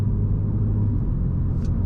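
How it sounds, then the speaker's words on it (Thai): A steady low exhaust rumble from a 2021 MINI Hatch JCW in standard mode, idling close by, deep and continuous with a slight throb, no talking. "นี่คือเสียงท่อเสียงต่างๆ ในโหมดปกติทั่วไป"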